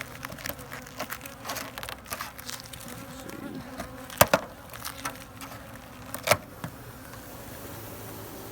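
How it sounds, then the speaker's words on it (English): Honey bees buzz steadily and close at an open hive during a winter hive check, a dense insect drone with scattered sharp taps and knocks, no talking. "These bees are mean."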